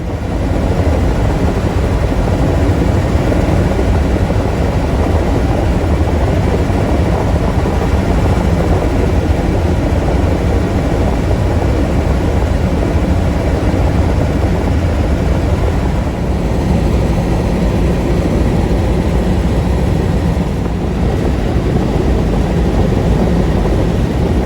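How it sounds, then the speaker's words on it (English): A loud helicopter drones steadily in flight over African bush, its dense engine and rotor roar filling the whole stretch without pause, heard from inside the cabin and with no voices. "was the helicopter quite loud"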